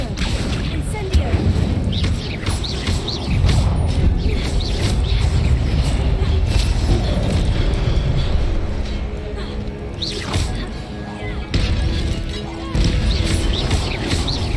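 Spells Accio and Incendio cast in the Hogwarts Legacy video game: loud magical blasts, crashes and booms pile up densely over steady action noise, with voices calling out between the bursts.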